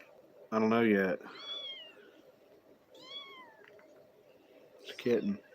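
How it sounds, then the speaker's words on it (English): A small, soft kitten gives a few high, rising meows between bursts of close human talk, the cries thin and fairly quiet against a low room hum. "It's a kitten. It's a soft ass kitten."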